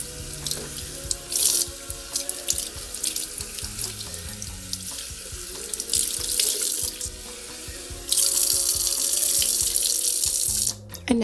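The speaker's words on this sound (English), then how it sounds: "And I'm going to do a final rinse under the faucet just for good measure." A human hair topper is rinsed under a running sink faucet: steady, close splashing water that swells louder as the hair moves through the stream, with a few brief surges and a sudden stop near the end.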